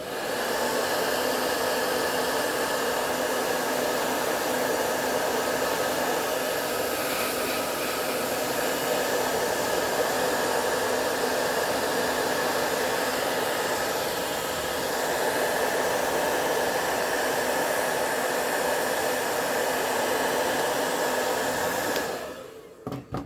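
A heat gun set to hot blows air to soften glue, giving a steady, even whooshing roar that holds for over twenty seconds before switching off.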